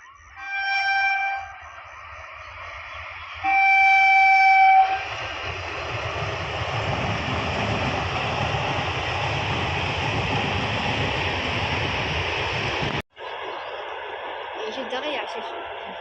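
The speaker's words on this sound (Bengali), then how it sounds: "ট্রেন আসছে শ্যাক শ্যাক করতে করতে" A train rumbles steadily past a level crossing with the gate down, a loud continuous roar of rolling wagons lasting about eight seconds after two short horn-like tones, then cutting off abruptly into quieter outdoor ambience.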